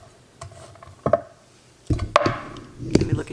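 A kitchen knife chops ingredients on a board while making tortellini soup at home, giving a handful of sharp, irregular, close-up knocks separated by brief pauses.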